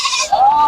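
A sheep or goat bleats once at a rain-flooded cattle market, a short nasal cry sliding upward, fairly close and loud over busy market noise.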